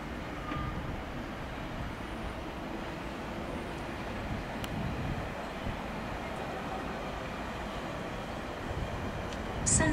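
A London Underground 1960 Stock train runs through Greenford station as a steady, loud rumble of wheels and rail noise, with a brief louder rise at the end.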